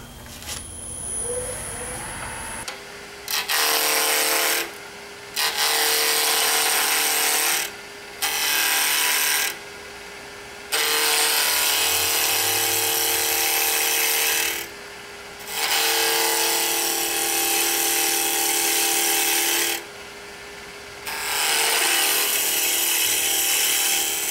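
A wood lathe spins a Roman flask blank as a roughing gouge cuts into it, giving bursts of harsh scraping and hissing with a steady motor whine, broken by several short pauses between passes.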